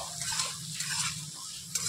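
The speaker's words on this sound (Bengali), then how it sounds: "লবণটা দিয়ে আমি 1 থেকে 2 মিনিট একটু নাড়াচাড়া করে নিয়েছি" Onions with salt being stirred as they fry in a pan, a continuous close sizzling hiss with gentle scraping movement throughout and a small knock near the end, no speech.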